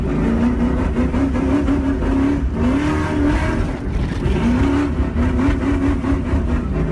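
A Ford Mustang spins donuts, its engine held at a loud, sustained roar with rising and falling revs. Close and continuous, with no voices.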